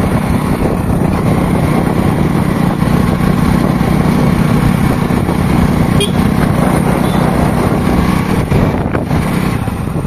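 Hero HF Deluxe motorcycle being ridden along a rough road, a loud continuous engine drone mixed with heavy wind rumble, steady from start to finish.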